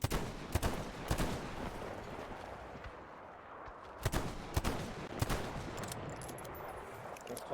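Gunfire in Metro Exodus aimed at a bear-like creature near a cathedral: irregular bursts of sharp shots over a rumbling background, some close and loud, others clustered, with brief lulls between volleys.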